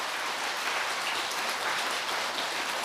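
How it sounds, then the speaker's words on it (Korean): A studio audience at a Buddhist monk's televised question-and-answer session claps steadily, an even, moderately quiet patter of applause with no talking. "박수!"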